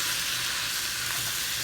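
Ground beef for Bolognese sautés in a pot with a dense, even sizzle, close and steady throughout, with no talking.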